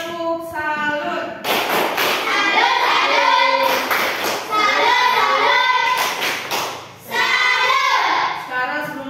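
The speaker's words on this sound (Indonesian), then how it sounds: "sekarang tepuk salut dulu untuk kita semua" Schoolchildren in an Indonesian primary classroom perform a rhythmic 'tepuk salut' clapping chant, patterned hand claps and thumps loud and close amid children's voices chanting and talking throughout.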